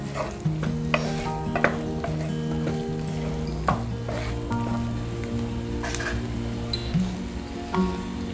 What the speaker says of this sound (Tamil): அதை சின்ன சின்னதாக பொடியாக நறுக்கி வச்சுட்டு இதை போட்டு நல்லா வதக்கிடுங்க.